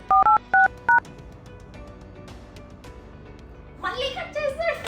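Phone keypad tones as a number is dialed, four short, evenly spaced DTMF beeps heard close and clear, followed by a quieter stretch and then a voice speaking.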